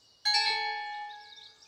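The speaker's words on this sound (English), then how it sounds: "Ring your bell, Lindy." A bell rings once in a Noddy cartoon rehearsal scene, a bright struck tone with layered harmonics that rings on and slowly fades, heard alone without talk.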